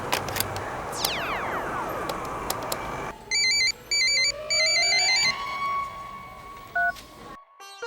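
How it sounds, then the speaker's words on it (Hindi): An electronic telephone ring pulses in short repeated bursts after a sweeping tonal whoosh, followed by a couple of brief beeps. "आप फोन कीजिए सर।"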